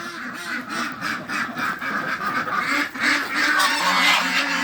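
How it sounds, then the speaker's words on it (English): A flock of ducks and geese quacks and honks in a noisy, continuous uproar, loud and close, with overlapping calls and no speech. "What's got them ducks all on an uproar this morning, huh?"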